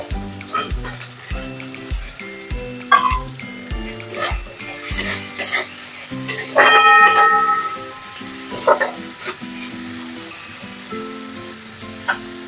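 Capsicum and slit green chillies hit hot oil in a pan and sizzle loudly. Repeated scraping stir strokes and metal clatter from the utensil come and go over the steady frying.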